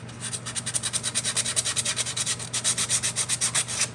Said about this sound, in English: I can take a little piece of sanding paper and sand on it. Let's get some 80 grit on there